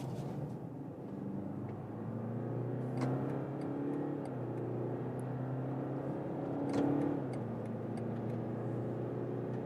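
A car, a BMW 5-Series G60 or Mercedes E-Class W214, accelerating from 50 km/h in its sportiest shift setting, heard from inside as a steady engine drone that rises in pitch, with two brief upshift breaks along the way.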